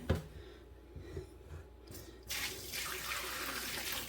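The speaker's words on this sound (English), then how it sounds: "my ham broth is done, so I'm gonna strain" Homemade ham broth is poured through a strainer in a kitchen, giving a steady rush of liquid splashing that starts about halfway through after a few quieter handling sounds, close by and continuous.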